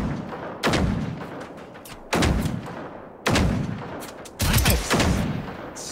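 Enemy gunfire in the Generation Zero video game, four loud bursts of rapid shots spaced about a second apart, each trailing into an echoing rumble, with no voices over them.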